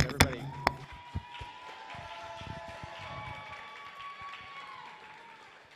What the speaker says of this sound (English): let's cheer for our acts that we had here, please,